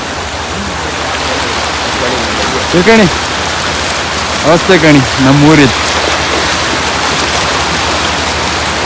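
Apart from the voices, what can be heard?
heavy rain in Udupi district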